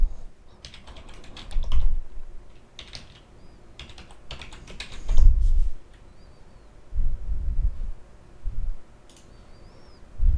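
A password being typed on a computer keyboard, close bursts of rapid key clicks separated by short pauses, with no one talking.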